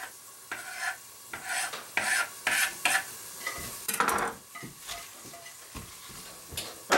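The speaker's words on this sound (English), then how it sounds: "I'm going to put it right in the chili." A warmed, lightly charred ball of chilies goes into a pot of chili and is stirred, giving scraping spoon strokes against the cast iron with soft sizzling, repeated in uneven bursts and heard close up.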